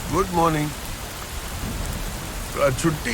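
Heavy, unseasonal April rain pours down in a steady, dense hiss for the whole stretch, with a few spoken words near the start and end.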